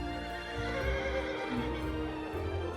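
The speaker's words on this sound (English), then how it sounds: "they're bringing the horses out to the parade ring so that they can see them" A racehorse whinnies in the parade ring, a long neigh rising over steady crowd and ambient hubbub, with faint hoof clip-clop beneath; no talk.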